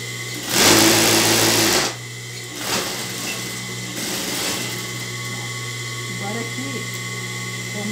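Domestic sewing machine stitching fabric for a simple curtain: a loud, close, steady buzzing run of about a second, then brief quieter whirs as someone talks over the hum.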